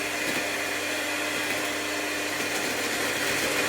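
An electric blender whirs continuously at a steady, high-pitched roar, close by, with no pauses or voices.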